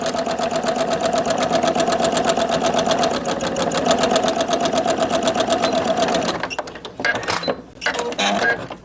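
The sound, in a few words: sewing machine stitching sun hat crown pieces together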